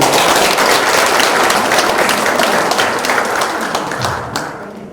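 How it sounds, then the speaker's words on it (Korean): An audience at a deputy county governor's inauguration ceremony in Hamyang breaks into dense, loud applause that fills the room, then gradually thins and fades toward the end. "박수 한번 부탁드리겠습니다."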